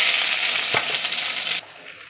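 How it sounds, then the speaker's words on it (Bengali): Taro leaves hitting hot oil in a wok with panch phoron and a dried red chilli: a loud, steady sizzle with a brief clatter midway, dropping off to a quieter hiss near the end. "এবার এই যে কচুর শাকগুলো কড়াইয়ের মধ্যে দিয়ে দেবো।"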